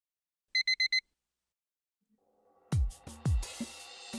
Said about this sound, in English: Sound of the alarm clock, which I haven't heard since entering university, fills my ears.